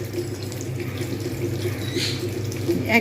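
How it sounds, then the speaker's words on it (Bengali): Water is poured into a pan of chicken and potato curry, a steady, close liquid gush with faint dripping that runs for the full few seconds. "কারি বা ঝোল একটু বেশি পরিমাণ জল দিয়ে দেবো"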